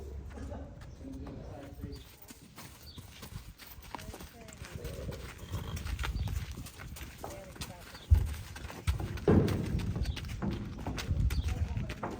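A three-year-old horse being handled and loaded before a demo, its hooves clip-clopping unevenly on hard ground at close range, mixed with shuffling footsteps and a few louder knocks, while people talk throughout.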